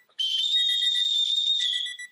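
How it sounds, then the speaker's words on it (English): A referee-style whistle blown once in a single sustained shrill blast lasting about two seconds, clear and fairly close, with silence before and after. "I blew the whistle, right?"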